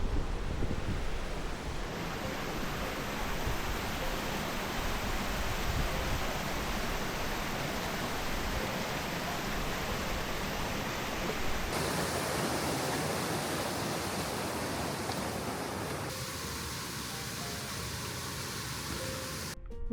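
A river in the Scottish mountains rushes steadily beside a bridge, a broad, constant wash of flowing water with no voices, its tone shifting slightly partway through.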